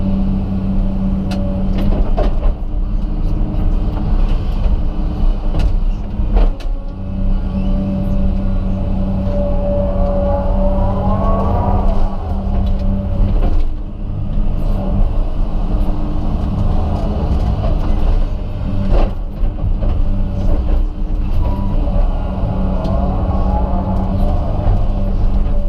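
A Komatsu PC200 excavator rumbles loud and near as it digs out large tree stumps, with a steady diesel drone, rising hydraulic whines and a few sharp knocks and cracks throughout.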